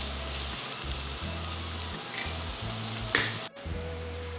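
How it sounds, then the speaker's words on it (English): Onions frying in a pan give a steady close sizzle, with low scraping and a brief clatter of stirring near the end. "our onions are about halfway done. Give them a stir."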